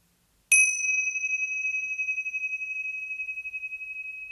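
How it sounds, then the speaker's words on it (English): A meditation bell is struck once and rings out clear and pure, with a long, steady, slowly pulsing tone that fades gently over several seconds in an otherwise silent room. "at the sound of the bell, coming back to our shared space"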